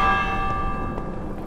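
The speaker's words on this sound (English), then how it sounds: "we've rang the bell." A bell rung in the video game Minecraft Dungeons, a bright metallic clang with long ringing overtones that slowly fade over a quiet game background.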